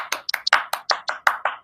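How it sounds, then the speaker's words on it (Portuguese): A single person claps about ten times in quick, even succession, each clap sharp and close, forming a brief burst of applause. "Aplauso."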